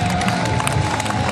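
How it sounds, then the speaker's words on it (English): A crowd at a STIHL Timbersports woodchopping event in Australia cheers and shouts loudly as two athletes walk onto the stage, a brief burst of noise. "please give a huge round of applause to get these two athletes onto stage"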